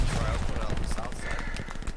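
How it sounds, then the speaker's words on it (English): Dense, continuous gunfire and distant battle noise from the WW2 shooter game Hell Let Loose near a port, a busy rattle of rapid shots filling the whole moment with no clear pause. "Are they shooting at me?"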